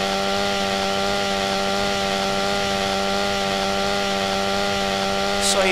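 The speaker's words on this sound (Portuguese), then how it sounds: "Motosserra em HD." A chainsaw weapon in the video game GTA San Andreas runs loud and steady, holding a continuous buzzing whine the whole time with a brief extra rasp at the very end.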